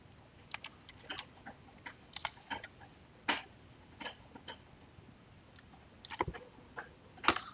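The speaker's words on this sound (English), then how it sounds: "I have a doggy chewing a bone behind me, and that's what was distracting me." A dog chews a bone indoors nearby, giving faint irregular clicks, crunches and gnawing ticks scattered across a quiet room, some louder sharp snaps now and then.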